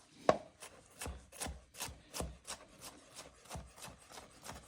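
Knife chopping green peppers on a cutting board while making fresh salsa, a steady series of about a dozen quick close thuds in a fairly even rhythm, with no talk.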